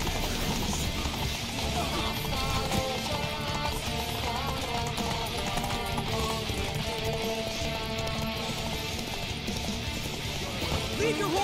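A horse gallops in The Witcher video game, its rapid hoofbeats drumming steadily beneath a dense, loud wash of game music and ambience with some voices.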